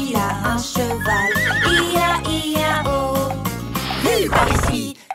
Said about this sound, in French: Dans cette ferme, il a un cheval